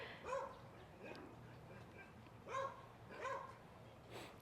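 Dogs barking outdoors beside a garden bed, with four or five separate moderate barks spaced about a second apart over a faint background.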